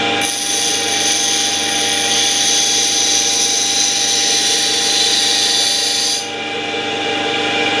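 Carbon steel wood carving gouge pressed against a spinning bench grinder, a loud continuous high-pitched grinding whine over the motor's hum, easing off near the end as the tool is lifted.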